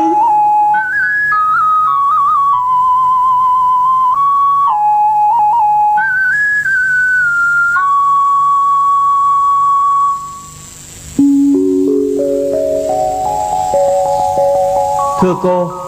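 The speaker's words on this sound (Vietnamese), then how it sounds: "Ta muốn được thưởng thức tiếng sáo mê ly huyền diệu của chàng nhạc sĩ tài hoa ấy." A bamboo flute plays a melody with held notes and stepping phrases in a cải lương hồ quảng stage performance. It sounds clear and loud, with a short dip partway through before the tune climbs again.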